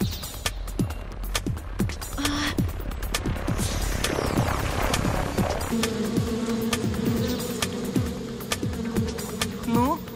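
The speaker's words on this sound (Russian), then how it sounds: "Насекомые заблокировали доступ на фабрику" A dense, droning buzz of a swarm of wasps fills the scene, steady and close, with a lower hum joining partway through.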